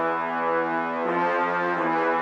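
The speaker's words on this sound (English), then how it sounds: "we have the full brass sustain," A full brass sustain preset from the Flex synth plugin holds a rich, droning chord with a slight swell partway through, loud, steady and alone without any talk.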